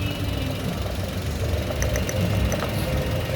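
A Toyota Wigo engine idles roughly with a steady low rumble, and quiet, irregular ticking or knocking sounds over it. The sound is close and continuous, with no talking.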